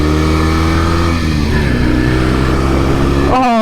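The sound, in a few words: 1968 Norton Commando motorcycle riding on the highway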